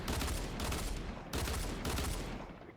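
Dual pistols firing in the Fortnite video game: dense, rapid volleys of shots in two long sustained bursts with a short break between them, loud and close.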